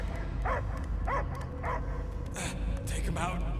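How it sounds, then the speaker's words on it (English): A dog barks in short yipping bursts during a Marvel's Guardians of the Galaxy game scene, the calls rising over a dense bed of game music and effects, with voices partly overlapping. "I hear only barking."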